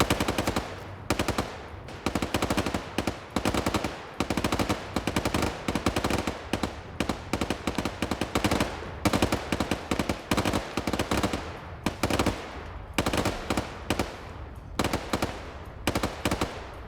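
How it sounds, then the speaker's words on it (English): Machine gun fire in a PvP multiplayer shooter match set in the Falklands. Long, loud, rapid bursts of automatic fire repeat with short gaps, sometimes overlapping, and no one speaks. "Plenty of tracers going back and forth."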